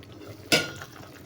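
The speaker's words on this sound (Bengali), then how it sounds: "এবার ঢাকাটা লাগিয়ে" A lid is set down on a pot of hilsa and eggplant curry, a single quick metallic clank near at hand, fading into quiet kitchen background.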